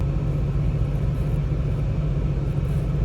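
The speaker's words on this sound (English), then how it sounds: "The engine started. We're warming up the truck" A truck engine idles steadily during a warm-up, a low, even rumble close by with no revving or voices.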